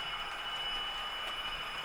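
A model train, a powered car pulling carriages, runs around a track with a faint, continuous whirring rumble and no voices.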